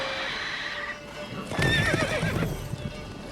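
Roach, the player's horse in The Witcher 3, neighs with a wavering whinny in the middle of the clip, over clip-clop hooves and game ambience, fairly close and loud.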